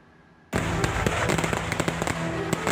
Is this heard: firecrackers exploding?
yes